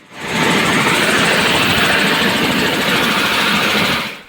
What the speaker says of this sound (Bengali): শিক্ষার্থী রুবিনা আক্তার রিঙ্কি এর মরদেহ বৃহস্পতিবার বিকেলে হেলিকপ্টারে করে নিজ জেলা গাইবান্ধায় পাঠানো হয়েছে